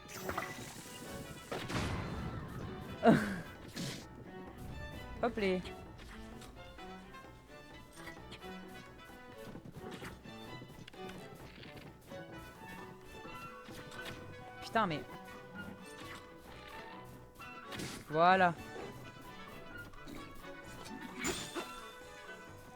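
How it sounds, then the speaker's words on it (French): Bombs go off among horses in Zelda: Tears of the Kingdom, several separate heavy bangs and thuds spread through a stretch of game noise, under someone speaking throughout. "désolé les chevaux, je vous ai balancé des bombes à la gueule"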